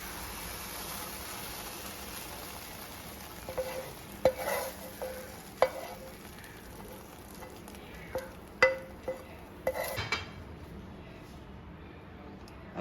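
Thick Kerala-style papaya halwa is stirred in a pan, with quiet, scattered scrapes and soft knocks of the spoon, a few stronger strokes midway, over a faint, steady hiss.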